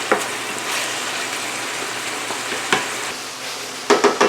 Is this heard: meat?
yes